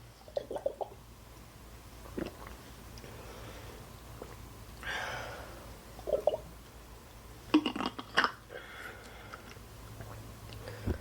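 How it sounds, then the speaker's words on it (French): Close, quiet sips and swallows of water in short bursts, with small wet mouth sounds and light rustling between them. "Je vais juste prendre une gorgée d'eau."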